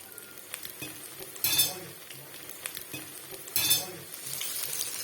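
Crisp drumstick leaf fritters sizzle in a frying pan, a constant hiss rising into two louder bursts of spitting oil, with light clinks of a utensil against the pan and no talking.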